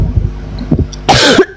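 A person coughs several times in short, close, loud bursts, with a final harsher cough before a brief pause.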